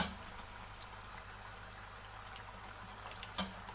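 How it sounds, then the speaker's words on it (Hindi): Potatoes frying in a pan of oil for a vegetable fried rice dish, giving a steady, quiet bubbling sizzle throughout with one brief louder crackle near the end and no talking. "ये आलू फ्राई हो रहे हैं।"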